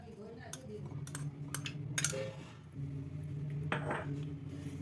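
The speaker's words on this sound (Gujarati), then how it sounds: "બટેટાને સારી રીતે મેશ કરી લેવાના અને સરસ છૂંદો થઈ જવો જોઈએ" Boiled potatoes and peas mashed in a steel bowl, with repeated metal clinks and scraping strokes, close and fairly loud, over a steady low hum and bursts of brief clatter.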